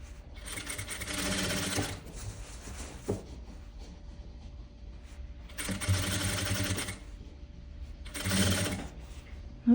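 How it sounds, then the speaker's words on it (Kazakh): A sewing machine stitches the stand-up collar of a vest to its lining with a 1 cm seam, running in three close, whirring bursts separated by short pauses. "Сөйтіп айналдырып 1 сантиметрлік тігіспен қосып шығамыз."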